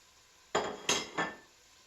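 Curry powder, coriander, cumin and turmeric are tipped into a cooking pot, making three quick metallic clinks and clatters close by. The sound runs just under a second against a quiet room, with no talk.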